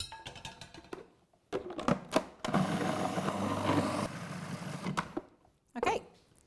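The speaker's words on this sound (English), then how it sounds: "I just want to blend up the onions and the garlic" A blender whirs through a batch of onions and garlic in a home kitchen, running steadily for about two and a half seconds between short bursts of clatter and handling noise.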